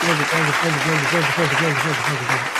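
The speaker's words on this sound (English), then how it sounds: "Clap it up, clap it up." Studio applause on a live wrestling-news broadcast, steady and dense for under three seconds, with a voice sounding through it.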